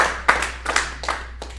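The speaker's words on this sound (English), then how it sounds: "Parents clap." A comedy club audience of parents claps in short separate bursts, a few sharp hand claps spaced across a brief moment, fairly close and without talk.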